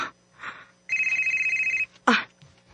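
A telephone in a drama scene rings with a single long electronic trill, set between brief muffled sounds and a short rustle.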